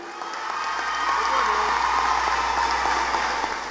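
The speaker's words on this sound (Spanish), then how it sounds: "para quien pido un fuerte aplauso" Audience at a Mother's Day show gives performer Michel a steady, full applause, a continuous wash of many hands clapping with faint cheers, fairly distant and even in level.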